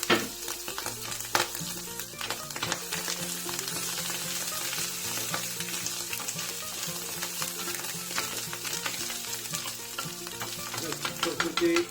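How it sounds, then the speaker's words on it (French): Mushrooms and small pieces of sausage fry in butter in a very hot pan, a steady dense sizzle with crackling pops that runs for the whole stretch, close and fairly loud, with no talking. "Dans une poêle bien chaude, vous faites revenir un petit peu de beurre."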